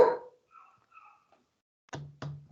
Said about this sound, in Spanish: Por aquí Romeo ladrando.